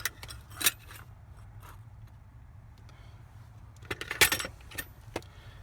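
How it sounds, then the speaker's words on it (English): Small metal steering-wheel parts from a 1967 Chevy C10, including a horn contact plate, clink and jangle as they are set into a parts tray, with a few sharp close clicks over a quiet background. "Put those together and put them in your little parts tray."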